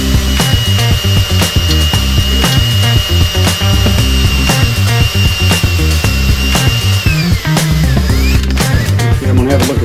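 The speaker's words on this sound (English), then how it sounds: "I'm going to straighten my drill back up, and I'm going to go a little bit longer now" A power drill grinds steadily into a broken bolt, a loud continuous whine with rhythmic pulsing as the bit bites, easing off near the end.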